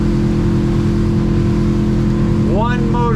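Twin 200 outboard motors on a Duckworth Offshore boat running at cruising speed on a single motor, a loud, steady engine drone with a constant hum close by and a voice speaking over it near the end.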